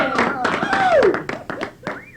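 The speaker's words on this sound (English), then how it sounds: "Hey, clap it up." At a 1999 high school prom gathering, an audience claps in sharp, uneven claps close to the microphone, over voices and cheering.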